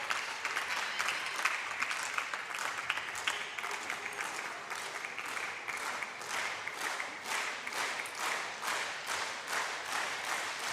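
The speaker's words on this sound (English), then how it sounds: "And hear the clapping of the crowd." Steady applause from the crowd at a table tennis Champions League Final Four match between Tarnobrzeg and Metz, sustained clapping at moderate distance with a pulsing rhythm and no talk over it.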